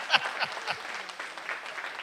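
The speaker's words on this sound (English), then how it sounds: "it's okay, clap." An audience at a Juneteenth banquet claps, a modest ripple of applause from a room of listeners, soft and somewhat distant, fading but continuing for a couple of seconds.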